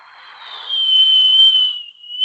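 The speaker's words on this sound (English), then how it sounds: "Just whistle as loud as you can into the mic" A single loud, sustained whistle blown straight into a microphone holds one steady shrill pitch for about two seconds, close and alone.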